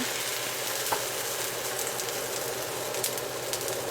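Wine hits a hot pan and sizzles and bubbles steadily throughout, a close, continuous crackling fry with small pops and no voices.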